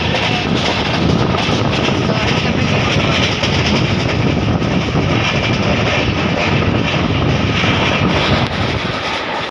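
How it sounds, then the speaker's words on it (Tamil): A Pearl City express train pulling out of a Chennai station, a dense continuous rumble of wheels and carriages with wind buffeting the microphone, loud and close throughout. "பார்த்தீங்கன்னா நம்ம பேர்ல் சிட்டி கிளம்பிச்சு"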